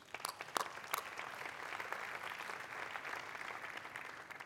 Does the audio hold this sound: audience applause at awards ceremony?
yes